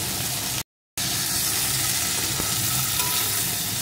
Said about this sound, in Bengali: এখন এগুলোকে একটু নাড়িয়ে নাড়িয়ে ভেজে নেব।